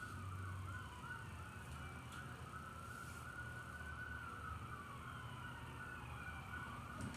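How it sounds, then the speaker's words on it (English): Emergency vehicle sirens wailing faintly in the distance, a continuous rising and falling tone over low background rumble, with no talking. "More sirens."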